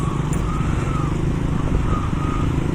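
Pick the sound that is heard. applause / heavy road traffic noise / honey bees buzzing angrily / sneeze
heavy road traffic noise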